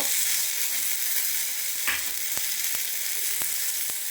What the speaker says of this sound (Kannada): ಚಕ್ಕೆ ಪೀಸು ಒಂದೆರಡು ಲವಂಗ ಒಂದು ಏಲಕ್ಕಿ ಇಷ್ಟು ಹಾಕಿ ಫ್ರೈ ಮಾಡ್ಕೋಬೇಕು